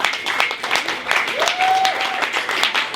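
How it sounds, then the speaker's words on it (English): Audience at a live poetry event claps for a performer, steady crowd applause with a whoop or whistle gliding over the top and voices shouting faintly within it. "a clap to I'm a Star."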